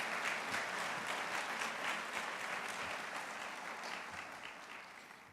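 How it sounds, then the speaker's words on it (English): Sustained round of applause for honored students at an honors night ceremony, dense even clapping from an indoor audience, steady throughout and tapering slightly at the end. "Let's give them all a big round of applause right away."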